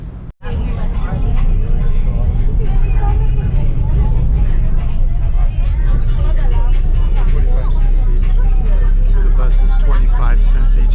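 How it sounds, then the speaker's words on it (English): Inside an air-conditioned city bus in Iloilo City, a low engine rumble and steady hum run continuously while passengers chatter in a busy background babble. "This is not a jeepney, it's an AC bus."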